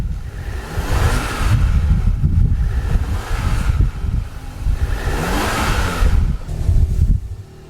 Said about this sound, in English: I don't want to rev it up too quickly, too fast, but I just want you to hear that.